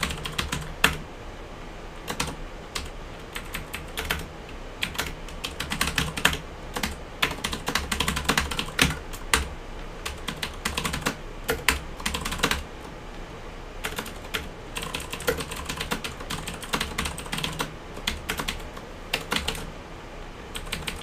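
Code being written on a computer keyboard: rapid, uneven keystrokes clatter continuously at close range, with short pauses between bursts and no talking.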